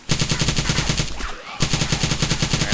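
Rapid automatic gunfire mowing down zombie hordes in DayZ, a steady close burst of evenly spaced shots that pauses briefly, then resumes at the same fast rhythm.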